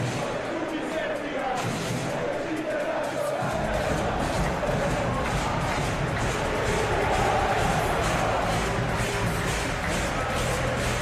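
Loud, continuous stadium crowd roar from a capacity football crowd at an Inter versus Arsenal Champions League match simulated in PES 2021, a steady dense wash of cheering and babble with no pauses.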